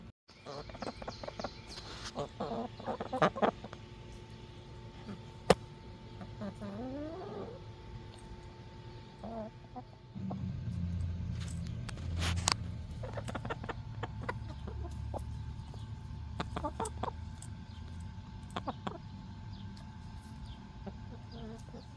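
Backyard chickens cluck and murmur faintly in a garden over a long stretch, with a steady outdoor background hum and scattered small clicks; a mower-like drone rises about halfway through.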